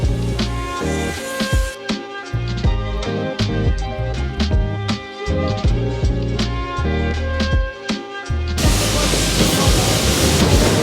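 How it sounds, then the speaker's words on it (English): Puffing Billy steam train pulling away near Melbourne, heard from the front: steady loud mechanical rumble and rhythmic chuffing clatter throughout, ending in a strong rush of hissing steam. "I am right at the front of the steam train."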